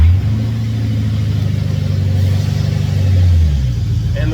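Ford Crown Victoria with new shocks, a 2.5-inch lift and wheel spacers rolling along a road, its engine a steady low rumble from inside the cabin that swells slightly before easing off near the end.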